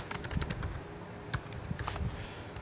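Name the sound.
typing on a computer keyboard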